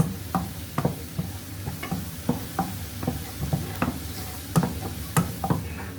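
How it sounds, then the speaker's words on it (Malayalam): Two tablespoons of maida flour sautéed in a pan, stirred with a spoon: irregular scraping clicks and taps over a soft, steady sizzle, close and moderately loud, with no voices. "ഇനി നമുക്ക് ഒരു 2 ടേബിൾ സ്പൂൺ മൈദ ഇട്ട് കൊടുക്കാം. ഇതൊന്ന് റോസ് സ്മെല്ലിൽ പോകുന്ന വരെ നമുക്കൊന്ന് വഴറ്റിയെടുക്കാം."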